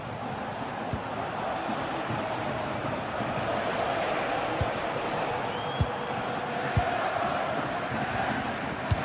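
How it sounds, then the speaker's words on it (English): A stadium crowd cheers steadily and at a distance in a GT Sport league broadcast, forming a broad roar with faint scattered thuds. "the crowd is certainly trying to motivate the team to push them forward to get the equaliser"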